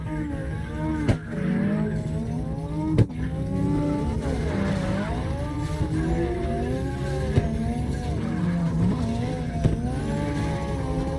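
Drift cars in CarX Drift Racing Online at the Navaro Base A map revving hard, engine pitch sweeping up and down in waves with squealing tires and a few sharp clicks, played loud through a stereo.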